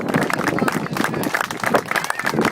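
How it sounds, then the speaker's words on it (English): Applause from an audience at a street-naming inauguration ceremony for Arsenio Rodríguez Way, a dense, steady wash of clapping and crowd noise with voices mixed in throughout. "So how about a big round of applause?"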